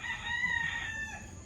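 A bulik rooster crows once in a backyard flock, a sustained, fairly close call that holds steady before trailing off, with no talk over it.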